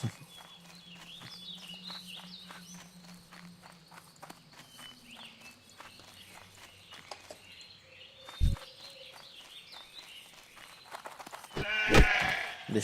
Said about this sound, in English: The sheep looked at me funny.